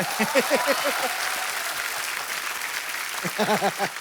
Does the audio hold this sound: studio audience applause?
yes